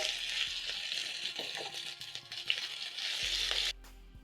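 Onions and ginger fry in hot cooking oil with a steady, soft hiss and crackle, fairly quiet and continuous, with a faint clink near the end.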